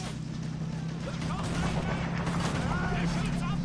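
Battlefield artillery fire in the Men of War: Assault Squad game, a dense continuous rumble of blasts and crackling gunfire with a steady low drone underneath, while a voice talks over it.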